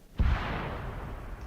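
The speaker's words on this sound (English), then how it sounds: "Ooh, that secondary explosion though." A secondary explosion goes off in a military video game, a single heavy boom with a deep low thump followed by a long, fading rumble, and a faint sharp click at the end.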